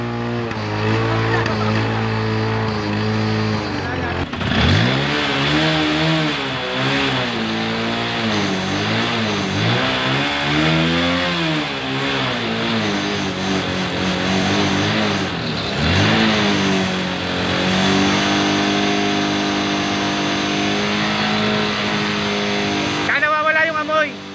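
A Honda motorcycle engine revs repeatedly, its pitch rising and falling in uneven bursts as the throttle is blipped, close and loud for the whole stretch, with a person talking over it.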